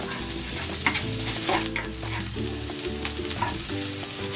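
Garlic and onion sautéing in a pan, a loud, close sizzle with repeated stirring scrapes and clatters throughout, no talking.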